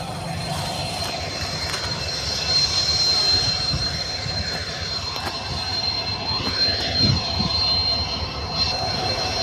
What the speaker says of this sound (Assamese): ট্ৰেইন আহি ৰখি আছে।